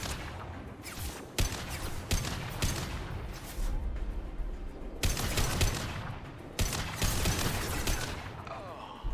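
Heavy gunfire in the video game Mass Effect, repeated bursts and bangs of varying loudness under a continuous battle din, with a voice talking at times.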